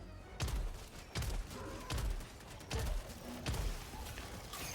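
Gunfire in the video game Helldivers II comes in repeated heavy bursts about every three-quarters of a second, booming thuds with some rumble between them, fairly quiet overall.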